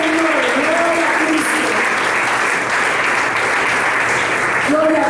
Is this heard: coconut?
no